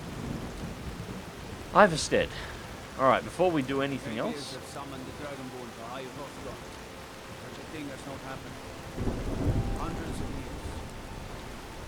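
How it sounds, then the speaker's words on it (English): In Skyrim near Ivarstead, heavy rain pours steadily while thunder rumbles and cracks nearby, loudest early and again near the end, with someone talking over much of the storm. "Storm's that loud at the moment"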